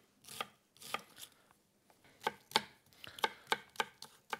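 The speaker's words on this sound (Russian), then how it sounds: "Вот у меня лук. Я его сейчас нарежу небольшими фрагментами." Knife chopping an onion on a cutting board in a home kitchen: a dozen or so crisp, irregular close taps, some quick pairs, with no talk.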